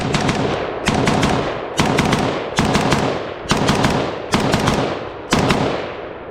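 Rapid bursts of gunfire from a Springfield Hellion bullpup rifle, about eight loud sharp volleys in close succession, each a string of quick shots, recorded near the shooter with no talking.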